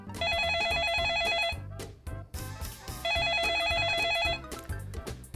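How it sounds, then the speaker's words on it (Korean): A telephone rings while a call connects for a news broadcast, two long electronic ring bursts over a background music bed, fairly loud and with no talk. "전화로 연결해 보겠습니다."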